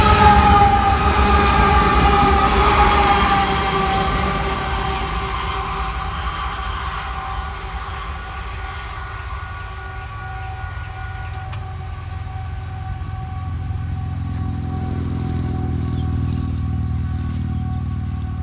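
A coal train's distributed-power locomotives, including ex-Southern Pacific AC44C6M units, roll past with a loud steady rumble and sustained tonal engine whine. The sound slowly eases and then builds slightly again, with no talking.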